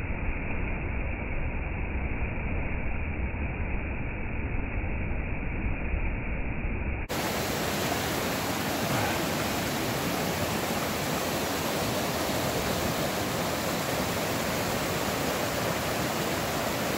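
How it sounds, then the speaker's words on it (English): Rapidly flowing stream water near the Townsend Wye and the Sinks, a loud constant rushing roar that stays steady and unbroken throughout, with no speech. "That water's moving pretty rapidly."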